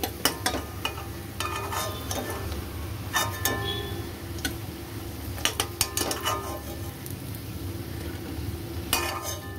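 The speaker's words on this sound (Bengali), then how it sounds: "আর একটু ভাজা এই পাশটা।" Egg fritters (bora) sizzling in hot oil in a pan, a steady close crackle punctuated by occasional clinks and scrapes of a utensil turning them.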